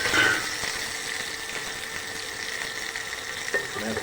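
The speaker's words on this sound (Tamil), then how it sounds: "எல்லாம் நன்றாக பொரிந்தபின் தேவையான சிறிது வெங்காயம் சேர்த்துக்கொள்ளலாம்." Onions fry in hot oil in a pan with chillies, giving a steady, close hiss and crackle of sizzling with a few faint stirring sounds and no talking.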